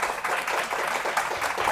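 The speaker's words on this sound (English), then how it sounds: "I would like you to give a round of applause for our able panelists here" Audience applause for panelists at a policy forum panel discussion, a steady wash of many hands clapping at moderate volume, continuous and even throughout.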